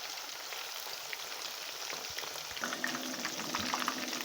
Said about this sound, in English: I like to brown my beef before I cook it down